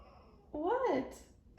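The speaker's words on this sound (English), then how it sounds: "My cat's just like meowing at me." A house cat gives a single clear, rising-and-falling meow indoors, fairly faint and close, with a brief noise after it.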